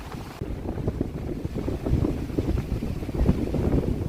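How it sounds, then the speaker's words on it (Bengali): Strong stormy wind, with rain, buffets a microphone outdoors by the water in the Netherlands, making a loud, continuous low rumble with gusty surges throughout and no speech. "আমাকে দাঁড়াতে দিচ্ছে না এত হাওয়া আর তার সঙ্গে এত বৃষ্টি হচ্ছে"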